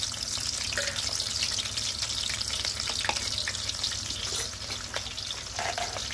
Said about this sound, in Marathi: त्यामध्ये तेल तापायला ठेवलं आणि लसूण आणि मिरची का टाकली कापलेली